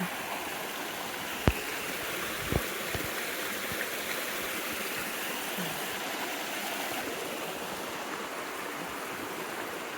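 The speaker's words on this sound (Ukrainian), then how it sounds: "І от туди це водоспад." Steady rushing water roars continuously from a waterfall in the Ukrainian Carpathians near Mykulychyn, broad and even throughout, with a couple of brief knocks early on.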